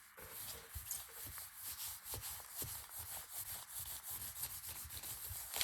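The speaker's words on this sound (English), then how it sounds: "So I just rub it through a plastic sheet." Wet-glued napkin paper rubbed by hand through a plastic sheet for a craft envelope, a steady close scuffing and rubbing with repeated short strokes, continuous and fairly quiet with no voices.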